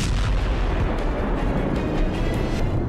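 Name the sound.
explosion hitting Ukrainian army convoy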